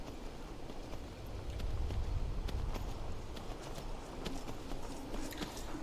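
Footsteps tread steadily across the ground on foot in the video game Skyrim, a soft, continuous shuffling with low game ambience beneath it.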